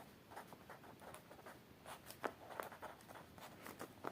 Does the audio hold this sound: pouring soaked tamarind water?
no